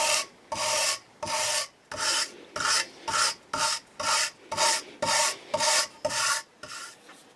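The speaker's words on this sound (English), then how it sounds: "we're just pushing all the soot that's now built up from inside the grain lines" Rubbing soot out of the grain lines on a custom Telecaster guitar body, a near, steady run of about a dozen rhythmic back-and-forth rasping strokes with short gaps between them, alone without talk.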